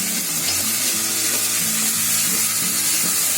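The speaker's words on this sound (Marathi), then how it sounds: "आपला टोमॅटो कांदा मस्त फ्राय झालाय बघा" Thinly sliced tomato and onion frying in a pan give a loud, continuous close sizzle with a bubbling crackle, steady throughout with no voices.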